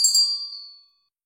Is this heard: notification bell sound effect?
yes